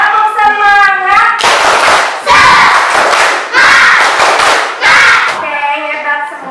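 Schoolchildren in a classroom perform a rhythmic spirit clap: loud bursts of patterned group handclapping alternate with children's voices chanting in unison, opening and closing on the chant.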